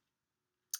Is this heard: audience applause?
no